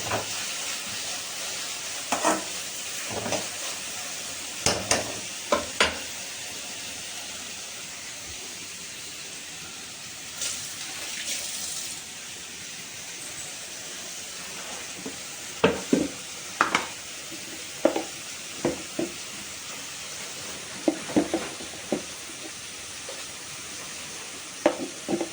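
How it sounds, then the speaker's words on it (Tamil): Ginger garlic paste fries in a pan for a prawn varuval, a soft low sizzle with scattered spatula scrapes and taps that cluster more densely toward the end, with no voices. "இஞ்சி பூண்டு பேஸ்ட் போட்டிருக்கோம். இன்னும் நல்லா வதங்கிட்டு"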